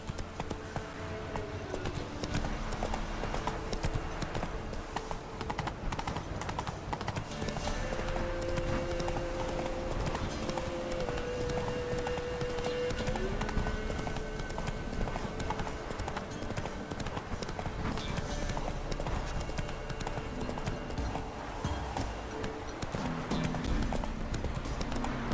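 Roach the horse galloping in The Witcher 3, loud rapid hoofbeats driving on without a break for the whole run, with a brief whinny and faint background game music.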